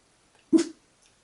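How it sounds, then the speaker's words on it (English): A single short bark from a dog named Wiki, close and fairly loud, one brief burst in otherwise quiet outdoor surroundings. "you're barking at your owner"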